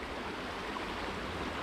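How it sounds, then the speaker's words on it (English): River water on the Bruce Trail rushes steadily with no break, a broad, even flow close by and fairly quiet, with no voices over it. "Look at the river, great water sources."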